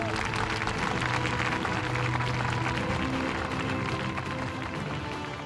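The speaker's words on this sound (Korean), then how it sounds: "격려의 박수를 부탁드립니다." Sustained applause from an audience at a joint South Korea–US combined live-fire military exercise, a dense steady wash of clapping running through the whole stretch at even loudness, with no voices standing out.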